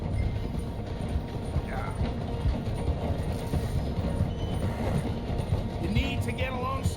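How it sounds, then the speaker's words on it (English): In Red Dead Redemption 2, a train slows as it passes through a station, giving a continuous low rumble with faint wheel clatter and occasional brief voices. "The train is slowing down to go through the station."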